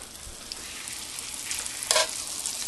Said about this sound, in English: We're just going to brown off the steak.